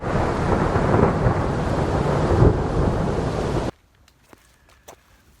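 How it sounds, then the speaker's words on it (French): Heavy rain pours steadily on a parked van under deep rolling thunder in Slovakia, loud and enveloping, then cuts off abruptly, leaving near-silence with a few faint clicks. "l'orage, comme vous avez pu voir hier soir, du coup a duré très longtemps"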